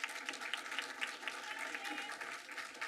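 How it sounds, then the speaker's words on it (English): Applause at a school district board of education meeting: a room full of people clapping steadily for a few seconds, dense and even, with no words spoken over it. "Give them a round of applause."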